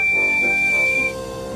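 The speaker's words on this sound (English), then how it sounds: "They were bumping freight cars and blowing their whistles." Thomas and Percy, cartoon tank engines in a freight yard, sound a steady, high whistle note that holds for about a second and then stops, leaving a quiet background hum.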